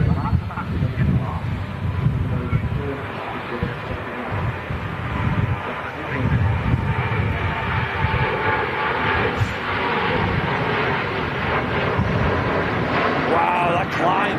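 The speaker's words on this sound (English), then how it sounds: "There's an aircraft departing. We'll catch that first. A fellow Ryanair." A Ryanair airliner departs and climbs, its jet engines a broad continuous roar that stays loud and steady throughout, heard from nearby with wind buffeting and people talking.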